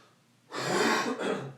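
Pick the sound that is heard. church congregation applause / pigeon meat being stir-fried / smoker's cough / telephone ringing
smoker's cough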